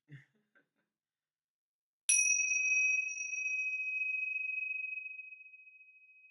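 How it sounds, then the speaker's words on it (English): A single chime is struck once after a short silence and rings out with a clear, sustained metallic tone that slowly fades. "would like to say thank you to Lama Chatulik for giving me chimes"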